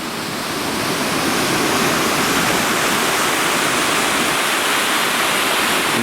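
Water tumbles down a rocky channel into a small pothole on Chiloé island in Chile, making a close, loud, steady rushing roar that swells in at the start and then holds evenly.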